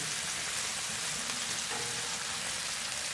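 Bacon fries on a Camp Chef FTG600 flat top grill set up in a smoke shed, giving a steady, dense, close sizzle with a constant crackling hiss throughout.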